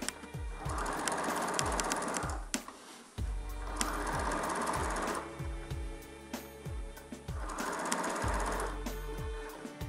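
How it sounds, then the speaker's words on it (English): A sewing machine runs a tight zigzag stitch to attach felt letters onto a messenger bag, rapid rhythmic clatter in three bursts separated by short pauses and soft mechanical thumps, fairly quiet and with no speech. "I took a piece of felt and then did a very tight zigzag stitch."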